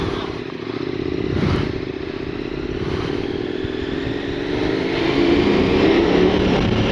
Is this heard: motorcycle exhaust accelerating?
yes